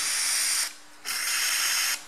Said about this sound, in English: I believe the old Valvoline WD spray, it's just a cheapie.